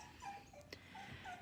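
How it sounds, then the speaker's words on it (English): A dog whines in a home, several thin high-pitched whimpers rising and falling, close by and alone. "she is literally the whiniest dog."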